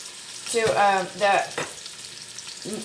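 Fresh ginger and garlic fry in a pan for a vegetable fish soup, giving a short, fairly loud sizzle that swells and fades in a couple of bursts, heard close up.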